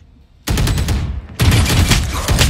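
Rapid gunfire bursts in the Valorant video game, two loud, dense volleys of shots that start abruptly and fill the clip, with a brief dip between them.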